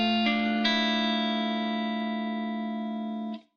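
Open-string chord on a guitar played through effects: a couple of quick picked attacks, then the chord rings out with a sustained, shimmering, slightly distorted tone before being cut off abruptly.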